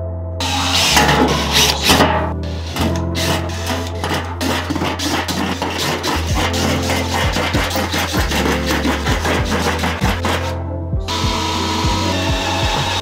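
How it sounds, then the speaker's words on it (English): A power drill bores holes into the bottom of plant pots, grinding steadily and loudly for most of the stretch, with rhythmic bite and rub as the bit works through the material, then briefly easing off near the end. "I have to drill holes into the bottom."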